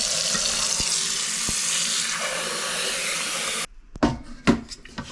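Tap water pours steadily into a pot of rice in a home kitchen, a loud continuous gush for a few seconds that cuts off, followed by a few light knocks and clatters of the pot.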